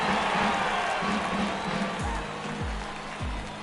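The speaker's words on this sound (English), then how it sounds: "Crowd gets up for the 3-2." A baseball crowd at a Double A game in the Jays franchise rises and cheers steadily for a 3-2 full count, a broad sustained roar with a few deep thumps near the end.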